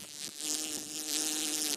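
Close buzzing of bees vibrating flowers, two sustained droning bursts with a brief gap between them, loud and alone.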